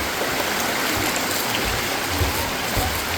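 A river stream flows steadily under a bridge over the Guaxinduba river, a continuous broadband rushing of water, close and even, with no voices.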